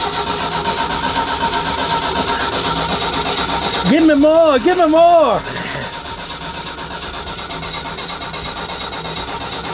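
The engine of a 1990s tracked auger machine, parked for over ten years, cranks over with a rhythmic whirring, sputtering briefly without catching, amid a steady mechanical hum and a short spoken remark.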